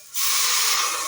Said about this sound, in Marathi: आणि आता मी पाणी ओतते.